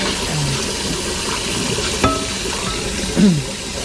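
A hot pan being washed while still hot, with steady hiss and sizzle of water on the hot metal throughout, a brief clank near the middle and a louder scrape or splash toward the end.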